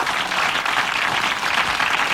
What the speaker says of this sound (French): 1000 francs, vos applaudissements.